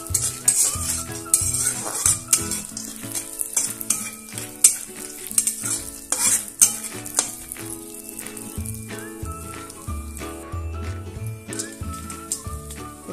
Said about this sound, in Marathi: शेंगदाणे आता मी परतून घेते।